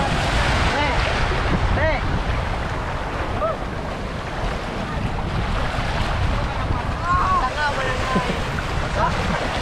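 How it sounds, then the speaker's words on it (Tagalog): Heavy surf of high waves surging against a rocky shore in Camarines Sur, Bicol, a continuous roar with wind buffeting the microphone and occasional faint voices. "Taas ng alon mga kabalikat."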